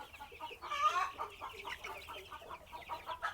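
Young 20-day-old chickens in a poultry flock cluck and peep softly in a steady, overlapping chatter, with no talking.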